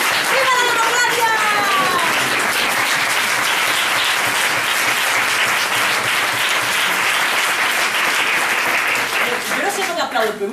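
Loud, dense applause from a large theatre audience fills the stretch, steady and sustained throughout, with voices faintly rising at the start and end.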